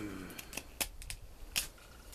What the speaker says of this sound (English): So let's see if it'll cut. And it's cutting.